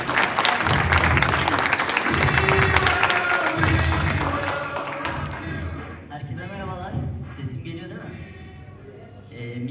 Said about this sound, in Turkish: Alkışlarınızla Baran Yavuz'u saygılar